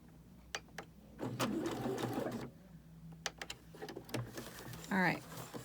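A sewing machine back stitches the seam of a fabric face mask in short, fast bursts of rapid stitching separated by pauses, with a person talking quietly between them.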